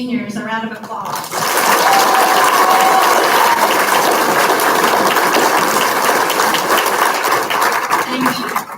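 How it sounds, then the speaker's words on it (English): A crowd applauds the seniors at Redwater High School's 2019 awards ceremony, steady dense clapping swelling in after a brief voice and filling the rest of the hall at full volume. "Please give these seniors a round of applause"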